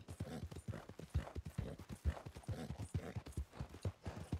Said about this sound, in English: The horse is making a lot of noises.